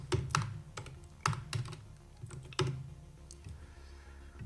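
Keys clack on a computer keyboard as an email subject is typed, in irregular bursts of close, crisp keystrokes with short pauses between groups, no talking.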